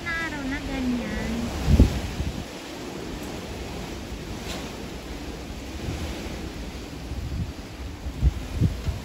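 Strong wind that has blown for days through fruit trees, knocking down lemon blossoms, roars as a constant gusty rush buffeting the microphone, with someone talking over it and a few thumps.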